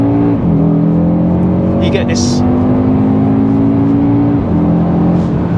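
An Audi RSQ3 Sportback with a 2.5 litre engine accelerates hard in RS mode, its steady rising engine drone dipping briefly at gear changes near the start and end, while someone talks over it.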